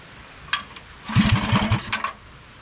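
A small mini bike engine idling briefly, a low rough putter of quick pulses lasting under a second, with a few light clicks and taps around it, close by.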